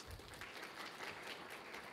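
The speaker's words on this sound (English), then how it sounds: "Ms. Lindy Cameron, please give her a round of applause." Audience applause at an AI safety standardization event, welcoming the UK National Cyber Security Centre's CEO as keynote speaker, a steady, even wash of many hands that holds at a moderate level throughout with no speech.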